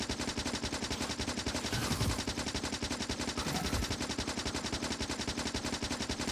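Rapid automatic gunfire from turrets in the video game Factorio rattles on without pause, a dense, even stream of shots with a couple of heavier bursts and no voices.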